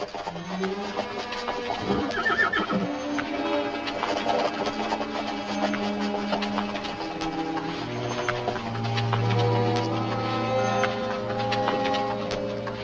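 A horse whinnies amid a busy outdoor scene in a 1950s Western film, with faint hoof clatter and background rumble continuing throughout.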